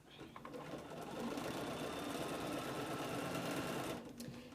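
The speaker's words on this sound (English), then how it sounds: "I'm going to make sure that I have it nestled together nicely and just keep on sewing" A sewing machine runs steadily for several seconds, stitching pieces of a log cabin quilt together, starting up quickly, holding a constant close hum and then slowing to a stop near the end.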